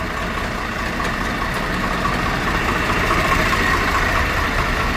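A Swaraj 744 FE tractor with a high and low gear fault runs steadily, its engine giving a continuous low rumble that stays close and loud throughout, with no talk.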